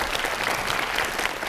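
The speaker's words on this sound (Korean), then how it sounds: "박수 한번 쳐주세요." An audience of university students applauds during a lecture hall talk by a city mayor, a continuous, even burst of clapping filling the room with no voices on top.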